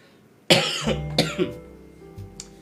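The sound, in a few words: person coughing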